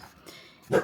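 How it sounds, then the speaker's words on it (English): A single dog bark near the end, moderately distant, after a quiet stretch of faint background noise. "I'm sorry if you hear my dogs barking a little bit."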